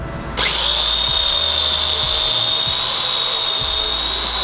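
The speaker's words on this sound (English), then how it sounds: "that was my first time ever using a chainsaw" Chainsaw starting abruptly and running at a steady high whine, loud and close, with occasional low thumps underneath.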